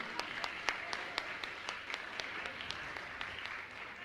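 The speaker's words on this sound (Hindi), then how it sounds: "आपकी तालियां लगातार बजती रहें।" Steady applause from an audience at a religious gathering, moderately distant and soft, with sharper individual claps standing out over the continuous patter.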